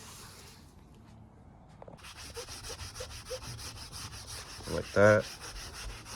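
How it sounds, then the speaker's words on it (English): New headliner fabric on a W211 Mercedes E55 is rubbed down by hand, giving a continuous close scuffing and brushing sound that grows louder partway through, with a brief spoken remark. "use the palm of your hand like that, or just use another piece of cloth fabric to rub down all over the material"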